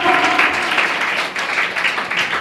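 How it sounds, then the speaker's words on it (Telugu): An audience at a church women's meeting claps together in a steady, dense burst that lasts throughout. A few faint voices are mixed in near the start. "అందరూ ఒకసారి చప్పట్లు కొట్టి దేవుని మహిమపరుద్దామా?"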